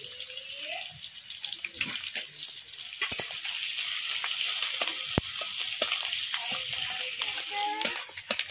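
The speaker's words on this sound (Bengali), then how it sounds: "তেলটা গরম হয়ে গেছে, তেলের মধ্যে কালো জিরি ফোড়ন দিয়ে দিচ্ছি" Chopped onion and green chili frying in hot oil with nigella seeds, a close crackling sizzle with sharp pops and stirring clicks, no speech.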